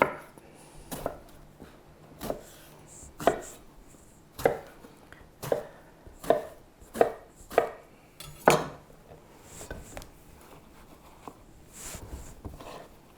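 Vegetables being cut into cubes on a board for ratatouille, a series of about a dozen distinct knife chops at an uneven pace, close and fairly crisp, with quiet gaps between.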